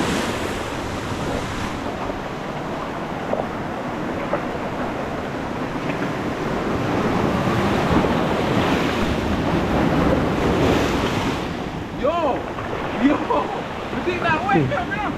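Heavy surf and gusting wind during a tropical storm on the Jamaican coast roar constantly, with waves surging and crashing and wind buffeting the microphone, while voices talk over it.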